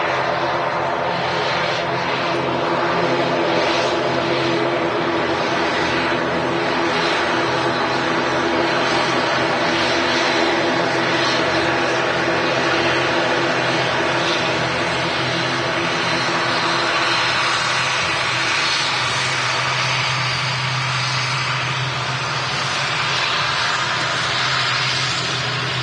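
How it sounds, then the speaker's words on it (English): An Etihad A380 airliner arriving at Manchester Airport gives a loud, sustained broadband jet roar that fills the whole stretch, slowly shifting in tone as the aircraft passes. "Etihad A380 in from Belfast, operated by Emirates UK."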